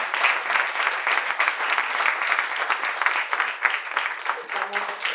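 Audience applause at an Argentine book publishing event, a dense steady patter of many hands clapping throughout, moderately loud and filling the room.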